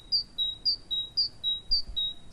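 A starling sings outdoors near a house, giving a repeated series of about eight high, thin, electronic-sounding whistles in a steady rhythm, clear and alone over faint background hiss.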